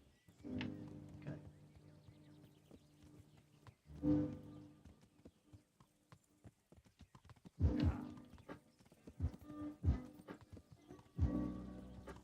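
Horse hooves clip-clop during riding in a medieval-themed video game, coming in several separate bursts of steps with quiet gaps between them, joined by occasional soft game sounds.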